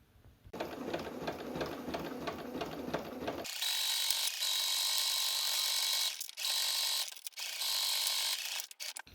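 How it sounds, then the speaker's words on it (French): A sewing machine runs a straight seam, 1 cm from the edge, along pinned fabric pieces for a tote bag. A steady mechanical whir and rattle goes on for several seconds, with brief pauses, close and alone. "On épingle et on passe un point droit à 1 cm du bord."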